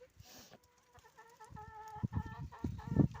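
Hens clucking softly in a coop, several birds with repeated short calls, close by and fairly quiet, with light rustling.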